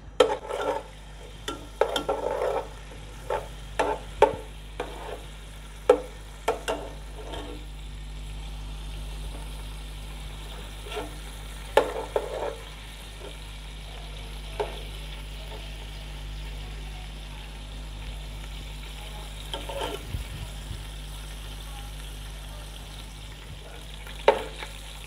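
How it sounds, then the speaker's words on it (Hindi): Chopped ginger, about a tablespoon, sautés in oil in a cooking pot, a soft steady sizzle under scattered clinks and scrapes of stirring throughout, with no voices. "साथ ही ये अदरक 1 टेबल स्पून चॉप किया हुआ, इसको हम हल्का सा सौते करेंगे"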